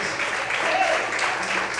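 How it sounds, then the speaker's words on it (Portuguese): Church congregation applauding in worship, a steady wash of clapping at moderate level with a voice briefly rising over it. "Todos podem aplaudir e exaltar ao Senhor por isso."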